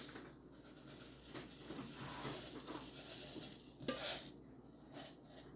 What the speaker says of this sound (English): I'm just going to stir them up, get them all nice and coated